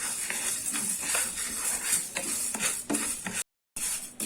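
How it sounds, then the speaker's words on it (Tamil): Black urad dal dry-roasting in a pan over a medium flame, stirred steadily with a spoon that gives soft, repeated scraping and rattling, close and continuous, with a brief gap of silence near the end. "இப்போ இந்த உளுந்தை நம்ம லைட்டாக வறுத்துக்கலாம்."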